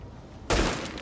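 An EMP grenade detonating in The Division video game: a sudden loud burst after a quiet moment, crackling and hissing broadly before easing off.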